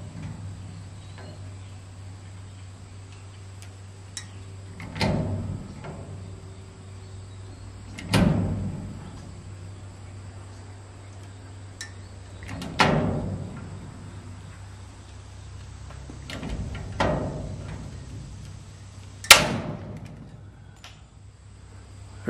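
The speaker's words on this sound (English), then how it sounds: "Gonna put on the doors with some rivets." Doors being riveted onto a metal gym locker during a restoration, about six sharp metallic pops and clacks spaced several seconds apart over a low steady hum, with nobody talking.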